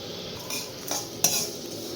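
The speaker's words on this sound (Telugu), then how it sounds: "ధనియాలు నూగులు అండి జీలకర్ర ఈ మూడు వచ్చేసి లైట్గా ఫ్రై చేయాలి" Coriander seeds, sesame and cumin are lightly fried in a pan, with a spatula scraping and clinking against the metal over a faint, low sizzle.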